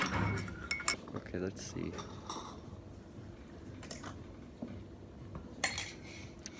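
A spoon stirs Vietnamese coffee with condensed milk in a glass, giving close, quiet clinks and scrapes in irregular bursts while a person speaks briefly.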